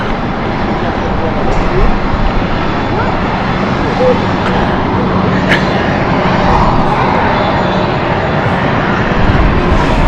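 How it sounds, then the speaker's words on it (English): An Airbus A220 airliner comes in to land at London City Airport, a loud, steady, broadband engine roar that fills the whole stretch at close range. "The aircraft is just coming in. Here's Glasgow. We wanted to focus on the A220 in that one."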